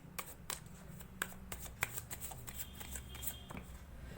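Tarot cards shuffle in a quiet room, making a run of soft, quick riffling snaps and slides close up, with pauses in between and no talking.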